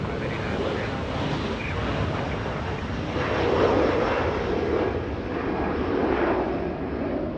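An Alaska Airlines plane at Los Angeles International Airport produces a steady, loud jet engine roar that swells midway, and a voice talks faintly beneath it.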